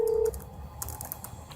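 A telephone call goes unanswered. A single short, clear electronic ringing tone sounds up close at the start and fades, followed by faint scattered clicking and tapping.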